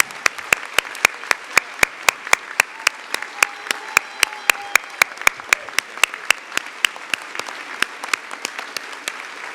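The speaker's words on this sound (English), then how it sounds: "Would you join me for one more round of applause to congratulate all of our honorees today?" An audience at a university investiture ceremony for endowed chair holders claps for the honorees, sparse, crisp, evenly spaced claps ringing out in a quiet hall, loud and continuous throughout.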